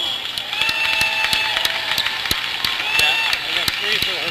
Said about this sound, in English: give these guys the next generation a big round of applause